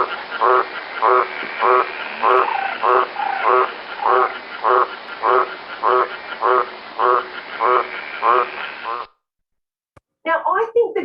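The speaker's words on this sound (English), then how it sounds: "Let's do the green tree frog." A recorded green tree frog call plays as a steady series of about a dozen evenly spaced, rasping croaks, loud and close, stopping abruptly before a short bit of talk at the end.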